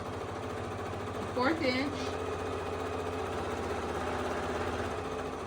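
A sewing machine stitches a seam around a fabric ribbon candy Christmas ornament, giving a steady, close mechanical whirr throughout, with a short spoken phrase over it.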